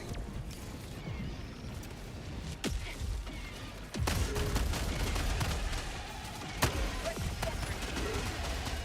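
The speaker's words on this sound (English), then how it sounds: "Okay, machine gun turret coming up." Machine gun turret firing in a video game, a dense, sustained rattle of automatic fire with sharp bursts and crashes layered over continuous mechanical noise throughout.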